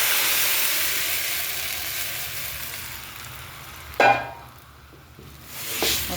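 Sweet bell pepper and tomatoes sautéing in a hot pan: a loud, steady hissing sizzle that eases off, then a sharp burst as more goes in, followed by a quieter sizzle that swells again, close with no voices.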